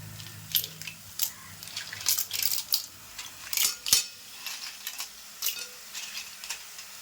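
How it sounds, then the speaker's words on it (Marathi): Clams are added to a pan for a dry Malvani-style dish, followed by a busy run of scraping, clinking stirs and light sizzling that come in irregular bursts close to the listener. "आता मी शिंपले आहेत ना ते आपण टाकून घेते"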